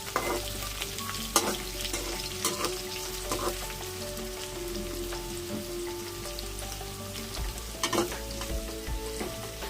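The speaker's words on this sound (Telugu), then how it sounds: "ఇందులో కరివేపాకు లైట్గా వేయాలండి." Curry leaves sizzling and crackling in hot oil in a pan while cooking Rayalaseema uggani, a steady close frying hiss with scattered pops and occasional stirring clatter, and no voices.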